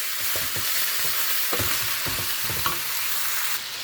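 Onions frying in rendered chicken fat for adobong chicken, a loud close crackling sizzle with repeated scraping stir strokes in an irregular rhythm.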